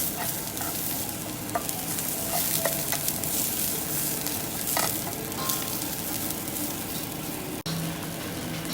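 Curry leaves frying in hot oil for a Sri Lankan-style dal curry, a steady close sizzle and crackle with small pops and a few stirring scrapes throughout, no talking.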